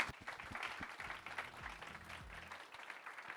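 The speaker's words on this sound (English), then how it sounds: "Can we get a big round of applause" Conference audience applauding at the close of a Rakuten and OpenAI session in Tokyo, a moderate wash of clapping from a hall crowd, with low voices and murmurs underneath that trail off toward the end.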